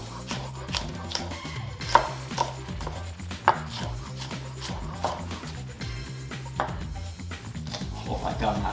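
A knife chops red onion into small pieces on a board with quick, irregular close taps, while a person talks over the chopping.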